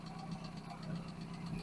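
An old A-series engine idles at a steady, smooth low rumble with faint even ticking, heard close and fairly quiet, without much tappet rattle.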